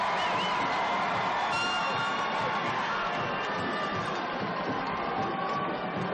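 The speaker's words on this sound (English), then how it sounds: "And just listen to this Liberty Hill crowd." A Liberty Hill high school football crowd roars through a timeout late in a close Texas state semifinal against Carthage, a loud, dense, continuous wall of cheering with whistles and shouts throughout.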